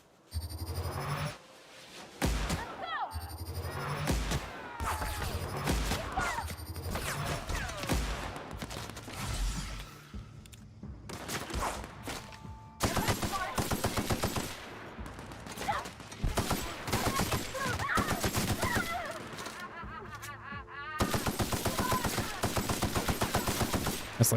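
Gunfire in The Outer Worlds: repeated bursts of rapid automatic shots broken by brief pauses, loud and near, with intermittent talk over the shooting.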